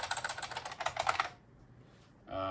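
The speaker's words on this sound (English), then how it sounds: "if I can type on this keyboard" Rapid clattering keystrokes on a computer keyboard for over a second, then a quiet pause before a brief burst of another sound.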